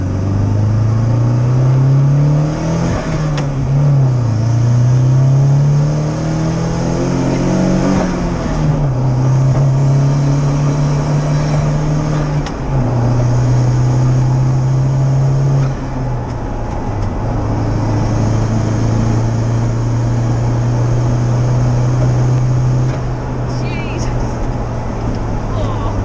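A turbocharged Smart car drives around town with its exhaust cut-off open, a loud, raspy engine drone rising and dropping through gear changes, close up, with people talking over it.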